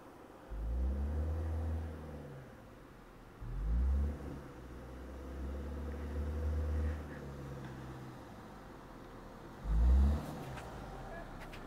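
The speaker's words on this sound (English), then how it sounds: "we've been driving up the mountain for a little bit" A 2022 Subaru Forester Wilderness SUV climbs a snowy mountain trail, its engine rumbling low and steady with several louder surges as it accelerates, heard close from inside or near the vehicle with no speech.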